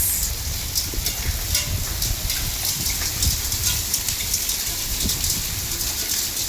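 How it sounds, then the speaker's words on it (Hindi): Rain patters steadily with small hailstones ticking and clattering irregularly on hard surfaces nearby at a house, a busy crackling texture over the stormy downpour. "ओले पड़ रहे हैं, कैसे पटड़ पटड़ की आवाज आ रही है"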